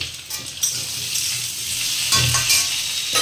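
Turmeric, coriander and chili powder sizzle and fry in a pan, a steady crackling hiss with light stirring scrapes close by, no voices.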